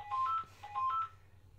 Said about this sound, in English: My phone is ringing every time